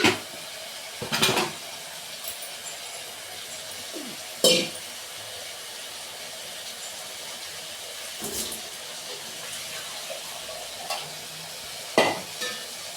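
Brinjal and tomato frying in a pan for kara kulambu, with a steady soft sizzle underneath and a few scraping strokes of stirring at irregular intervals, close up, with no talking.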